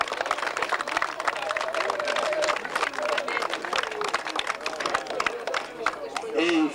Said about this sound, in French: je vous demanderai d'applaudir, s'il vous plaît.